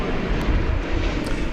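American Airlines Boeing 787 Dreamliner at DFW Airport, a brief burst of loud, close jet rumble and roar with heavy low-end buffeting, steady over its short length with no voices.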